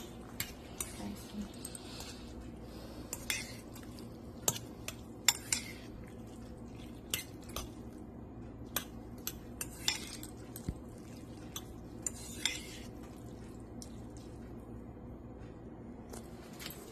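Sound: mixing noodles in a pot with utensils

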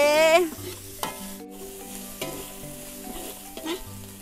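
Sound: sautéing bamboo shoots in a pan

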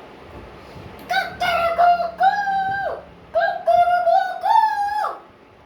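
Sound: voice imitating a rooster

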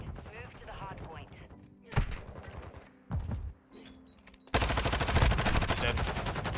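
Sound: gunfire in MW2 video game

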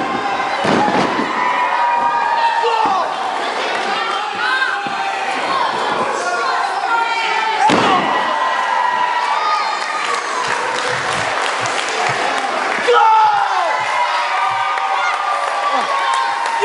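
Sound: wrestling crowd cheering

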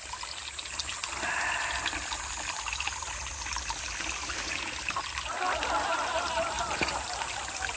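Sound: mountain valley stream water flowing

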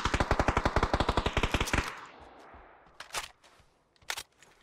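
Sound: automatic gunfire in PUBG video game

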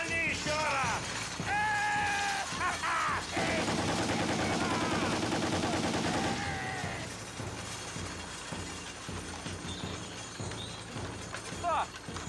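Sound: machine gun firing in a war film

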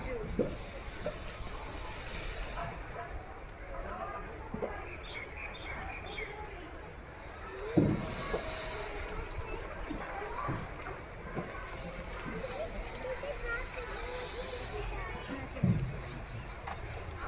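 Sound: snake hissing at a mongoose, like a pressure cooker whistle

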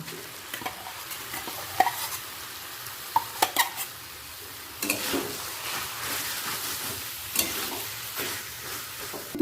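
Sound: minced chicken frying with onion and tomato

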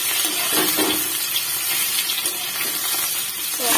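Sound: potatoes and papaya frying in a pan

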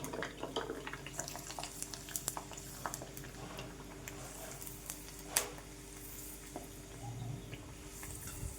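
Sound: sabudana papad frying in hot oil

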